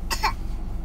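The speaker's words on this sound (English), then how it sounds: "See, that's how her cough sounds." A young girl's single short, harsh cough, close and fairly loud, followed by quiet room background.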